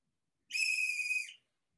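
A single whistle is blown in one clear, shrill, steady blast lasting under a second against near silence, with no voices.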